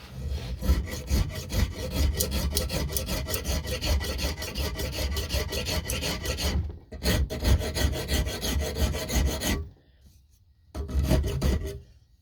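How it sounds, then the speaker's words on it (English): A vintage rasp files a wooden double bit axe handle clamped in a metal vise with leather padding, producing close, rhythmic scraping strokes in steady runs broken by brief pauses. "This is a vintage 4 and 5 rasp, so it's nicer."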